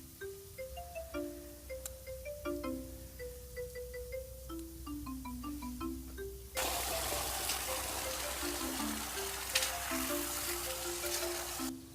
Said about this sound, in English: just rinse it over again and run it until the water is mostly cleared.